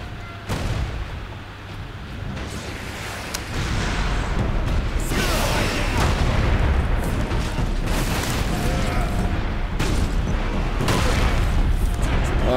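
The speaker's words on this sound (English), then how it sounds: "those missiles are really messing me up" Missiles exploding in the Warhammer 40k Space Marine game, where heavy booms and rumbling blasts pile into a continuous loud barrage of battle noise.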